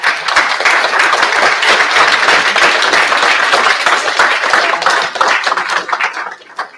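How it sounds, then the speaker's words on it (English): An audience at a live panel on UAP science and national security gives the panelists a loud, sustained round of applause with dense, rapid clapping that thins out toward the end, and one brief spoken word. "Big round of applause for our panelists, please."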